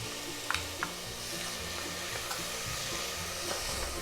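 Cumin, ginger and green chilies sizzle steadily in a pan, a dense, even hiss with a few faint clicks from the stirring spoon.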